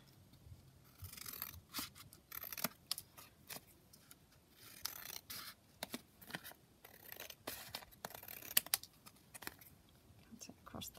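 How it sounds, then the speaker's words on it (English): Scissors snip through paper for a sheet-music collage, a quiet run of short, close cuts in irregular bursts, with faint murmured talk between them. "So I'm just going to cut that down."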